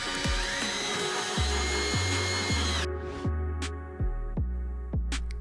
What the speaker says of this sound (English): we decided to just screw support directly into the wall